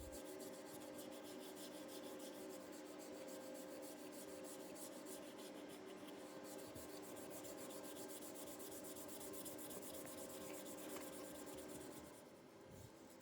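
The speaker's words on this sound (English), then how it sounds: "I'm pouring a generous amount of premium finishing oil over the raw wood and rubbing it in." Finishing oil is rubbed by hand into a raw wood knife handle, making a faint, continuous close-up rubbing and scuffing sound with no voices.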